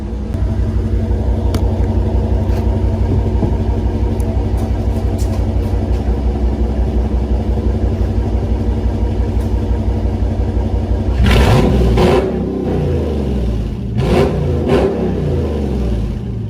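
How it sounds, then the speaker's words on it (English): A car engine idles with a deep, steady rumble inside a garage, then revs sharply several times, each roar rising and falling. "Let me rev it inside the garage"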